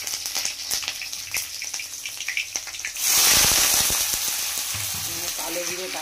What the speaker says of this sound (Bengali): কালো জিরে কাঁচা লঙ্কা ফোড়ন দিয়ে আলু ভাজছি, কড়কড়ে করেই ভাজবো